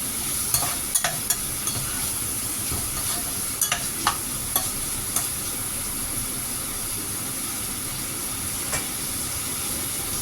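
Garlic and meat fry in oil for Filipino adobong sitaw, giving a steady close sizzle and hiss with scattered crackles and a few sharp stirring clicks throughout, no talking.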